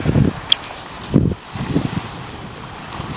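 Wind gusts across an open bay around a kayak, a steady rushing roar with buffeting against the microphone and faint water movement, rising and dropping in short surges.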